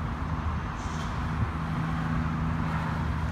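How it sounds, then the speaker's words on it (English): Road traffic running beside a cemetery, with a steel mill on the other side, a steady faint hum of passing vehicles with a low droning tone throughout. "Even though it's noisy, there's traffic on this side."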